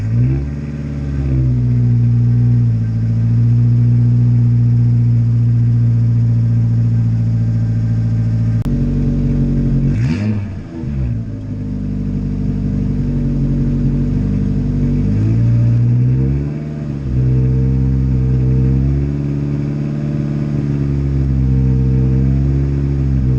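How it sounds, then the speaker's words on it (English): Ford Focus engine cold-starts in snowy weather with a sharp crank and catch, then settles into a loud, steady idle with a brief rev partway through, heard close and without talk. "let's do a cold start on the Focus"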